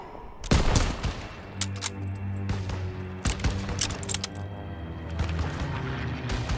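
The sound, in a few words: suppressive gunfire in the video game Call of Duty: WWII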